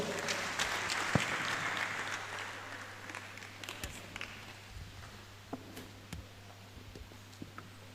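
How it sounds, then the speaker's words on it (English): An audience at a national youth dialogue on reforms in The Gambia applauds a speaker, the clapping loudest at first and then fading into scattered, sparse claps over a steady low hum. "Please, a round of applause for our Honorable Batambedo once again"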